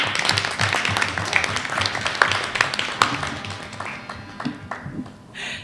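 Audience applause fills a Brooklyn borough service cabinet meeting right after a speech, dense and steady at first, then thinning out and fading over the last couple of seconds.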